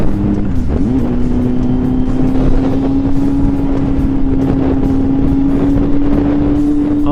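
A loud motorbike engine roaring steadily nearby, its tone rising slightly after a brief shift at the start, with a rough, throaty exhaust note throughout.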